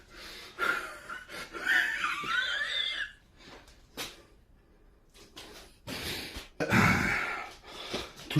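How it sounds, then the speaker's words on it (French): Heavy, ragged panting and gasping from a person out of breath after a strength-training session with a strongman, coming in loud bursts with quieter pauses between them. "Toujours essoufflé, les gars."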